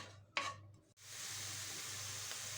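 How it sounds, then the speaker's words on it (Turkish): Onions with a pinch of salt sauté gently in a pan for Sarıyer börek filling, a spoon knock and stir at first, then a steady soft sizzle continuing alone. "Bir tutam tuz da ekliyoruz soğanımıza. Hafiften kavuruyoruz."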